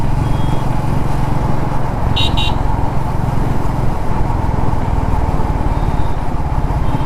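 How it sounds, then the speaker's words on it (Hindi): Steady roar of heavy road traffic from aboard a Royal Enfield motorcycle, its engine rumbling low and constant throughout, with a brief high horn or beep around the middle of the ride. "वाह आज ट्रैफिक कितना ही हुआ भाई"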